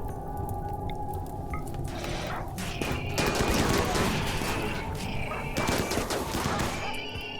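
RimWorld colony battle with rapid bursts of gunfire and squishy hit sounds clustering in waves, mid-loud over a layer of background game music and ambience, with someone talking at times.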